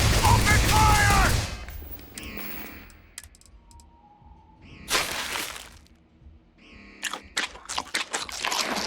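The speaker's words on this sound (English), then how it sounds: "Open fire!" Gunfire in the space video game Starfield: rapid bursts of shots and sharp impacts crackle in uneven clusters after a loud opening stretch, with voices shouting over the firefight.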